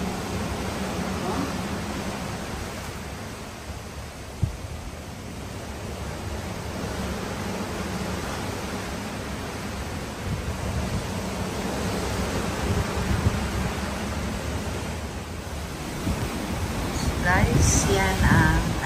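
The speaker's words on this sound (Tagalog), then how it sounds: "Kaya umuuyog-uyog ang barko guys kasi maalon. Ang alon guys, oh." Rough sea waves wash continuously against a rolling cruise ship in the Caribbean, a steady broadband rush mixed with wind noise on the microphone, louder toward the end.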